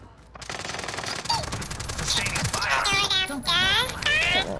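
Rapid machine-gun fire in a video game, rattling in bursts beneath excited voices talking over it, with high whistling and tonal effects layered in.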